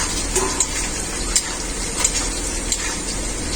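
Fried potatoes tossed into a pan of well-cooked spice paste, giving a steady close sizzle with a few sharp stirring clicks and scrapes, no talking.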